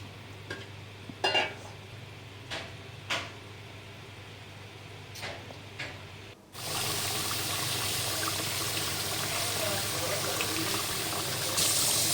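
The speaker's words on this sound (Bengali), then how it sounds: "আমি হালকা দুধ এবং একটু জল দিয়ে দিচ্ছি" Milk and a little water are poured into a pan of browned roast meat, giving a sudden steady rushing hiss that carries on to the end. Before it come a few scattered clinks and knocks from kitchen handling.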